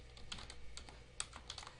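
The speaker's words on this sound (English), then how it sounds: "You'll see I'm typing the entire word on the command line." Typing on a computer keyboard while entering a command in AutoCAD, a quick irregular run of close but quiet key clicks with no talking.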